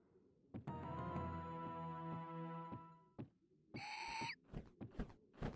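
A piercing eagle cry from the Karateka martial-arts video game, a short bright screech that follows a sustained, ringing musical tone and is trailed by a few soft thumps.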